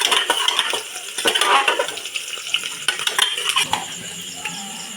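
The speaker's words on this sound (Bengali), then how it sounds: "পেঁয়াজটা আমি পুরোপুরি ভাজবো না কোনো রকম হালকা একটু নেড়ে ছেড়ে নেব" Onions lightly stirred in a pan, with busy clattering and scraping of a metal utensil against the pan over a faint frying sizzle underneath.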